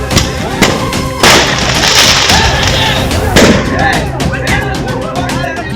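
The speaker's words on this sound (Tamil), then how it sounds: "பட்டாசாலையில் மீண்டும் வெடி விபத்து." Firecrackers explode during a blast at a fireworks factory where several rooms went off in succession: rapid, sharp bangs and crackling pops overlap loudly and continuously, with voices heard beneath.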